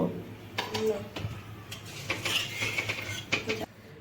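A spoon clanks and scrapes against a metal pot while egg curry with chui jhal, water, salt and turmeric is stirred, with irregular knocks over a low background hum.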